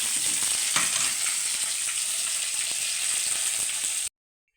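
Mustard seeds and curry leaves fry in hot oil for a green gram curry, giving a close, steady sizzle with scattered crackles until the sound cuts off abruptly near the end; no one speaks.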